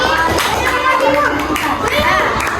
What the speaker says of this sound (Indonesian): Tepuk tangan lagi buat Mbak Selin